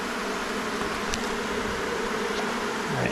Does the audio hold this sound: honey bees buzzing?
yes